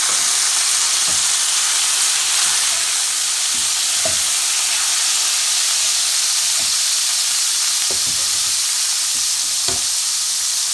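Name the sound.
tomatoes added to frying onions sizzling in a pan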